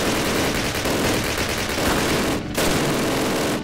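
Sustained machine gun fire rattles loudly and continuously in a Call of Duty battle, a dense rapid burst that drops out briefly before resuming at full intensity.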